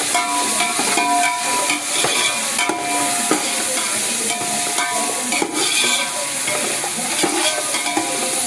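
Spices with a pinch of hing fry in a pan for a vegetable pulao, giving a loud, dense, continuous sizzle close up with faint rhythmic stirring scrapes and no voices.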